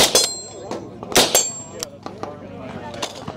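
Sharp, loud rifle shots from a 10.5-inch barrel firing 105-grain ammunition at an outdoor range, several cracks with ringing metallic clangs of steel targets scattered between them.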